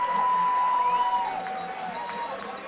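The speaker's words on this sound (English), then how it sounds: "Well, it is a massive, massive crowd down there." A huge outdoor crowd waits at the finish of a pro cycling stage in Denver, a dense, steady murmur of many voices with scattered whistles and cheers that eases slightly toward the end.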